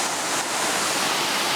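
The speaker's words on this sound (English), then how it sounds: "Kind of a nice, clean waterfall." A clean waterfall roars steadily and loudly up close, a dense unbroken rush of falling water with no voices.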